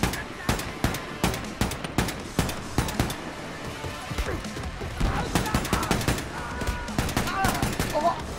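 Rapid volleys of gunfire ring out in Wolfenstein II: The New Colossus, sharp repeated shots in quick bursts and short pauses, loud and close throughout.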